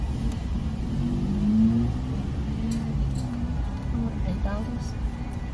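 Bus engine rumbling with steady road noise from inside a moving city bus in Miami, a low continuous drone, while people talk nearby.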